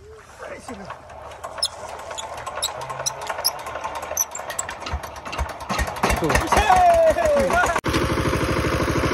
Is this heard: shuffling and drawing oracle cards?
no